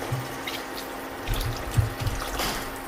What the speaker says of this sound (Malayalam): ഞാനിവിടെ പച്ചവെള്ളമാണ് ചേർക്കുന്നത് കേട്ടോ